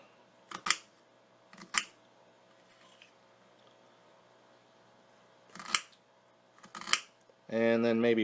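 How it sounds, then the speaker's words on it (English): A knife chops through onion pieces on a cutting board in a few sharp crisp crunches spaced apart, close and fairly quiet, followed by a voice at the end. "We are going to chop each one up individually."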